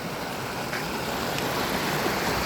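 A river flowing through the alpine valley at Fiss in Tirol, Austria, as a steady, full rush of water with no breaks and no talking.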